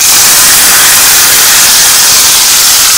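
Ghee with fried cashews and plump raisins is poured into moong dal payasam, a very loud, close, continuous sizzling hiss with no letup for the full length.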